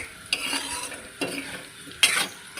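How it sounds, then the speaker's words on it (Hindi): Potatoes sizzle in a pan for a homemade sabudana bhujia snack while a utensil stirs them in three distinct scraping strokes, close and clear. "थोड़ा सा 5 मिनट तक लगेगा आलू को फ्राई करने में।"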